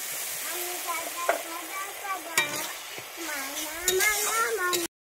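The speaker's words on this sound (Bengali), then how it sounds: "এর মধ্যে আমি একটু বাটি ধুয়ে জল দিয়ে দিচ্ছি।" Water is poured into a pan of fried chili and cumin paste, giving a steady sizzle with stirring scrapes and clinks, while a person talks over it.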